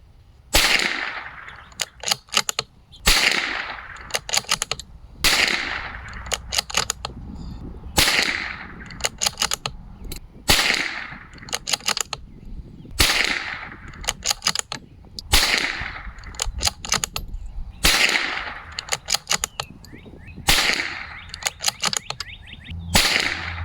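Repeated sharp rifle shots from a Bergara BMR-X fired with SK semi-auto ammunition at a shooting range, about ten evenly spaced loud cracks with quiet pauses between them and no talking.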